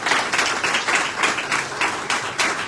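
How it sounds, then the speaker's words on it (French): Audience applause at the inauguration of a hospital centre, steady dense clapping from a crowd that rises and falls in waves throughout, sustained and fairly loud with no talking over it. "Je vous prie de lui donner un applaudissement du fond du cœur."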